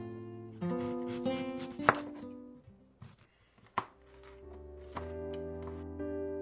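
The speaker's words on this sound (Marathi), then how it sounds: "सगळं स्वच्छ धुवून तिने ते कट करायला घेतलं" Knife chopping onion and tomato on a kitchen board as a sound effect: a handful of crisp chops, close and distinct, over a steady background music bed with no voices.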